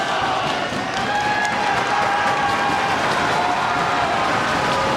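Pro wrestling crowd at a Ring of Honor event roaring loudly and continuously, a dense wall of cheers, applause and whistles from a packed arena with no single voice standing out.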